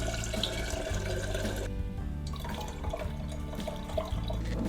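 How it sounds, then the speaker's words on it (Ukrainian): Steady pouring and splashing of currant liqueur with syrup and water into a container, continuous and close, with a brief dip midway before the flow resumes. "Зливаємо все в одну тару."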